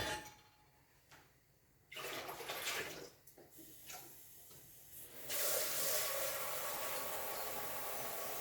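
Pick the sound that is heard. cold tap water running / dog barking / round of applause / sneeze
cold tap water running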